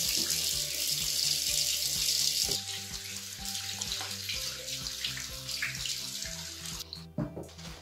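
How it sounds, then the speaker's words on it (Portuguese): A bathroom water tap turned on and left running, a steady loud hiss of flowing water that settles into a lighter stream with some clinks and handling sounds. "Aqui eu abro a torneira."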